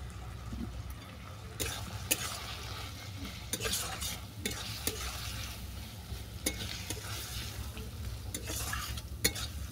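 Chili and turmeric powder spices saute in a pan with a soft, continuous sizzle while a spatula scrapes and clicks against the pan at an irregular pace. No one speaks.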